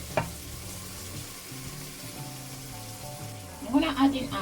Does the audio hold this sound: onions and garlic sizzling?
yes